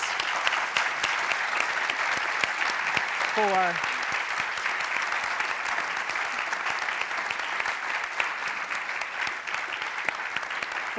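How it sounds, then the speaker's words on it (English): Audience applause after a panel discussion at a U.S.-German forum on technology, security and democracy, a dense steady wash of many hands clapping throughout, with a voice speaking briefly over it. "Let's give them a very warm round of applause"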